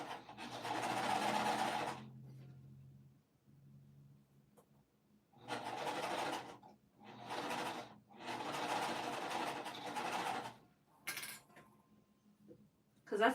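A sewing machine stitches the seams of a quilted sweatshirt made of small squares. It runs in several close bursts of rapid mechanical whirring separated by pauses, and faint talk can be heard between the runs.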